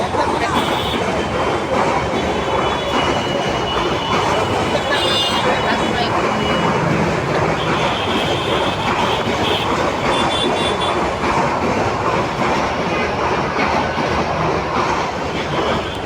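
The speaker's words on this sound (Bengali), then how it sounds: "শব্দ হচ্ছে অনেক" A train rolls past close by, its wheels clattering steadily over the rails with occasional high squeals, a loud unbroken roar throughout.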